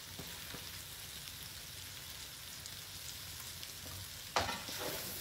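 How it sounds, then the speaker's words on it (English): Potatoes and onions fry in rendered sausage fat in a pan, a soft continuous sizzle that flares briefly louder near the end as something is stirred or added. "So let's add our potatoes and our onions."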